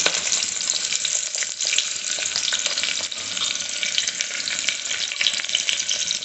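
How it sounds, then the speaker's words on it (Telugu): Onions and dried red chillies sizzle hard in a hot pan, a dense continuous crackle with occasional stirring scrapes and no talk. "ఇప్పుడు ఎల్లిపాయలు వేస్తున్నానండి. ఎండుమిర్చి వేస్తున్నానండి."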